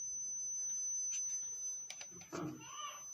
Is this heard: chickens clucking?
no